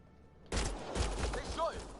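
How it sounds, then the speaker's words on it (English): Gunfire in a video game firefight as a surrendering man is shot, a sudden loud burst of rapid shots starting after a quiet moment, with short voices mixed in. "They shot him."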